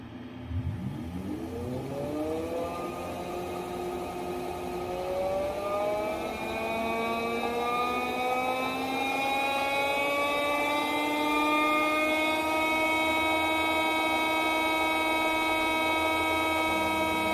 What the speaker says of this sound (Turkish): Motoru elimle zorlayarak normalden fazla akım çekmesini ve limiti aşmasını sağlıyorum.